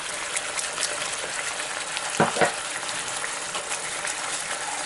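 Ginger garlic paste sizzles and spits in hot oil, a continuous loud frying hiss with a few sharper crackles and a brief clatter near the middle, no talking.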